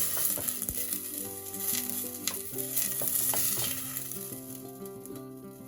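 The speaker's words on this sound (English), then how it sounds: "just getting a bit of colour on those onions" Onions frying in a pan for mince and tatties, a moderate steady sizzle with a few stirring scrapes, overlaid by sustained tonal background music.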